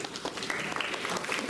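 At a sixth-grade honor roll school assembly, a crowd breaks into moderately loud, continuous clapping with some voices mixed in.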